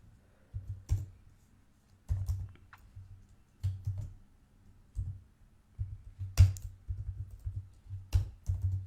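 Someone types code on a computer keyboard in uneven clusters of muffled, close keystrokes separated by short pauses, with a soft thud under each key and no voices.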